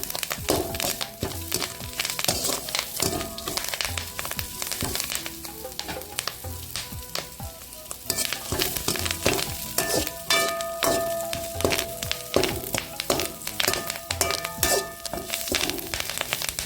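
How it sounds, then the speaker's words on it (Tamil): Banana shoot sizzling and frying in a pan for chutney, with steady crackling and occasional stirring scrapes, loud and close throughout, no voices. "நல்லா தளவு வதக்குங்க."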